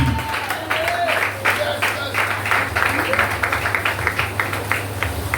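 A church congregation applauding together, dense sustained clapping with a rhythmic pulse, loud and close, with a voice speaking briefly over the applause near the start.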